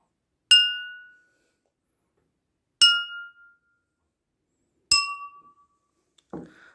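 Three glasses holding different amounts of water are tapped one at a time, each giving a single bright ringing clink that decays quickly, with the pitches differing, in an otherwise quiet room.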